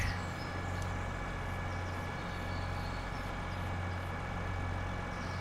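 Steady low engine drone of a tractor in the farming video game Farming Simulator 25, running continuously at moderate level with a constant hum throughout, no voices.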